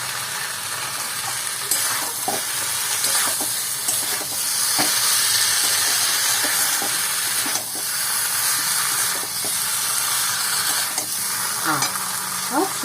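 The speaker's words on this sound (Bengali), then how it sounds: "আমি কিন্তু সবজিগুলো ভালো করেই ভেজেছি দেখো বেশ সুন্দরভাবে এটাকে আমি কষাচ্ছি" Vegetables for Bengali shukto sautéing in a pan, a steady close sizzle and hiss with frequent scraping stirs of a spatula throughout.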